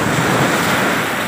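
Strong sea waves at night roll in as a loud, steady wash of surf and wind noise close to the microphone, with no voices.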